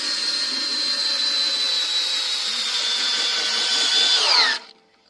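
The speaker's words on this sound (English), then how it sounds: "And we screw it in with a screwdriver." A power screwdriver drives a big bolt, giving a steady high whirring motor whine for about four and a half seconds that rises slightly in pitch, then cuts off abruptly into silence.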